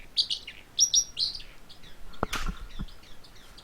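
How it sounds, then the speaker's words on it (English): A small bird gives a few bright, high chirps close by, followed by a brief rustle and a couple of soft thumps. "if you're hearing those noises, that is the bird over here"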